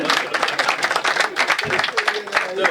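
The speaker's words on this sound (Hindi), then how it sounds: "जोरदार तालियां बजा दो।" Audience applause at a Hindi comedy poetry gathering (hasya kavi sammelan), dense and steady clapping that fills the short stretch.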